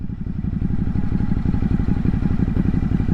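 A 2020 Ducati Hypermotard 950 SP engine pulls hard under acceleration, a loud, steady, close-up rumble with clattery pulses throughout and no talk.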